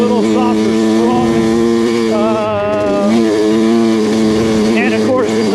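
A Kawasaki KX100 two-stroke dirt bike with a 3/4-size frame, ridden in the hills, holds a steady buzzing engine drone throughout, with a voice talking over it.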